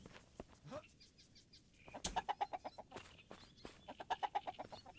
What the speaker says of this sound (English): Let me go say hello to my chickens.